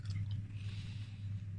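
Close, wet chewing of chewy rendered pork crackling, Hungarian töpörtyű, soft squishy bites and mastication in a quiet room with no talking.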